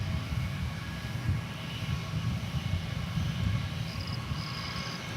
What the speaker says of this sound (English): Now on final approach is American Flight 1887 coming in from Phoenix, Arizona.